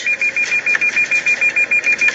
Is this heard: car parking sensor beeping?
yes